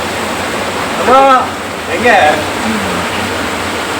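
Water flows and rushes outdoors in a steady broadband wash that fills the whole scene, with a couple of short spoken voices rising briefly over it.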